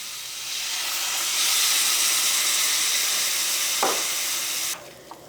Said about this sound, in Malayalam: ഞാൻ അതിലേക്ക് 1 ഗ്ലാസ് വെള്ളം ചേർക്കുന്നുണ്ട്